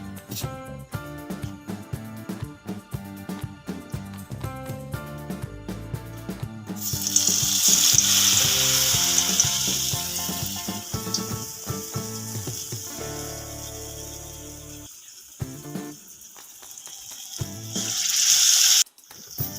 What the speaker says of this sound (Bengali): গ্যাসের মধ্যে আমি তেল গরম করতে দিয়ে দিয়েছি, অলরেডি গরম হয়ে গেছে দেখতে পাচ্ছি। এবার এক এক করে আমি বেসনে ডুবিয়ে ছেড়ে দেব।